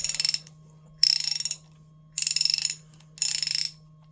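Dayton ratchet wrench with a big pawl being cranked: four bursts of rapid, loud metallic clicking, each about half a second long, separated by short pauses, close and crisp over a faint steady hum.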